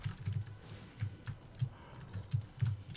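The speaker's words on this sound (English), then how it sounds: "test how me talking goes with me clicking. My clicky-ass keyboard." A clicky computer keyboard is typed on steadily, giving soft, close bursts of clacking keystrokes in an uneven rhythm, alone and without speech.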